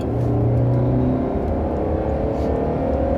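A 2020 Mercedes GLC Coupé 4MATIC with a 9-speed transmission revs high under acceleration uphill in Sport+ mode, a steady loud droning roar with rising tonal whine, close and continuous throughout.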